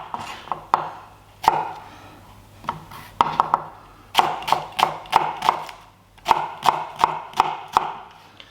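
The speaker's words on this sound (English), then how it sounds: "Then, with the root away from me, I'm going to cut down." A knife cuts down through a shallot on a cutting board, sharp crisp chops repeating in quick irregular bursts, close and clear with no talking.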